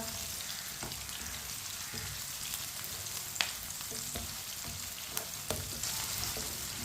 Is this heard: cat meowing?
no